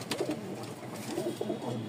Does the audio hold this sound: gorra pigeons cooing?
yes